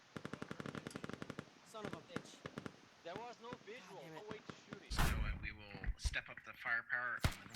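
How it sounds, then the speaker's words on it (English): Rapid gunfire pours into a compound in the military shooter Squad, bursts of automatic fire rattling near and far while several voices talk over the shots. "Shots coming into the compound."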